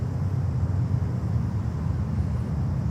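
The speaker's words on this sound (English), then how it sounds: "There we go. American Airlines 737-800." An American Airlines Boeing 737-800 jet rumbles low and steady at Fort Lauderdale airport, a continuous engine roar with some wind buffeting the microphone.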